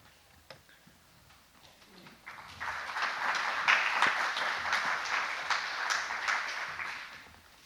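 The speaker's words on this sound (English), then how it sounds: "I didn't think anybody was going to clap, so I appreciate it" Audience applause at a town hall builds from a few scattered claps into a steady round of clapping that holds for several seconds, filling the room and fading slightly at the end.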